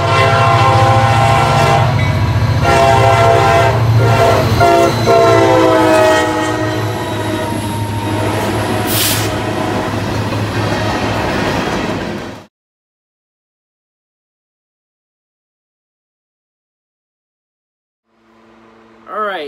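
Model trains from a home train collection run loudly for about twelve seconds with a steady rumble, rail clatter and a horn blast, then cut to silence before a faint burst returns at the end.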